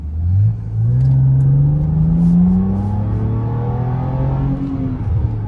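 A BMW E90 M340 car engine revs up hard to 7,000 RPM, climbing in pitch, then holds and eases off, with a few crackling exhaust pops near the end.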